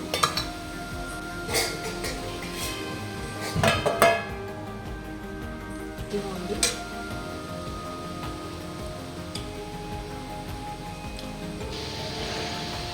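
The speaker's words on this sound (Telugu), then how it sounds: "మూత పెట్టేస్తాను" A lid is set on a cooking pot of jackfruit curry with cashews, giving several distinct metallic clinks and clatters. The clanks are separated by quieter stretches of faint kitchen background, with no talking.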